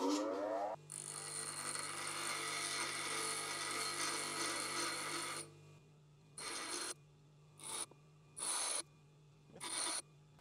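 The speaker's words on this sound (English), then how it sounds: "we need to just grind off the excess steel before we start grinding" A steel-bodied internal threading tool with a brazed tip is held against a grinder to remove excess steel, giving a steady loud grinding hiss for several seconds, then short separate bursts of grinding with quiet gaps.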